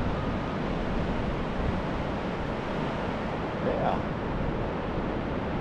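Atlantic Ocean surf washing steadily onto a beach in Portland, Maine, a continuous broad roar mixed with wind buffeting the microphone, loud and unbroken throughout, with one short spoken word.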